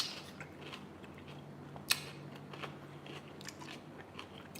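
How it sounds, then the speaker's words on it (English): Someone bites and chews a cucumber and tomato salad close to the mic, a single sharp crunch followed by quieter wet chewing crackles over a low background hum. "You hear that crunch?"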